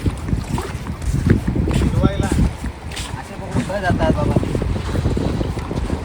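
A fishing boat out at sea near the shore, with steady rumbling engine and water noise buffeted by strong wind on the microphone, while people talk over it.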